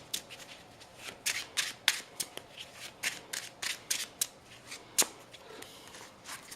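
Crisp, rapid riffling bursts of a Yu-Gi-Oh Gem-Knight card deck being shuffled, repeated in quick irregular flurries, close and fairly loud with no talking.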